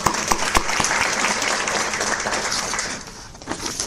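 Applause from an audience at a genealogical society awards lunch, dense and steady for several seconds, fading slightly toward the end, with no talk over it.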